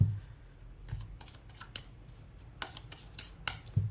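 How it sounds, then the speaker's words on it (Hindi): Tarot cards shuffled by hand in short, soft riffling bursts repeated at intervals, quiet and close with faint thumps between them, no talking. "यहाँ पे शफल हो रहा है"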